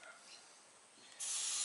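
Brake cleaner sprays in a steady loud hiss into the oil passages of an RB25DET crankshaft, rising sharply after a quieter stretch of faint hissing and continuing to the end.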